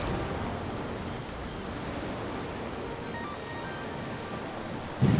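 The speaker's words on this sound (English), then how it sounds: "Oh, it's windy." Wind blowing at a seaside cove beneath a wide cliff, a steady low rumbling buffet of gusts mixed with distant surf, holding constant before a sharper blast right at the end.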